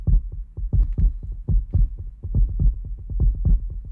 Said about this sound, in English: The galloping heartbeat was back.